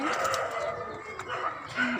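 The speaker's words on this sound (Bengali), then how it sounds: "তোমার কবুতর খাবার খাচ্ছে" Pigeons feeding on a rooftop vegetable garden give soft cooing and bird sounds, fairly close, over a steady faint background hum.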